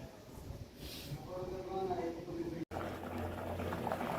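A pressure cooker with a broken gasket boils with a steady bubbling and hiss of escaping steam, muffled voices murmuring underneath.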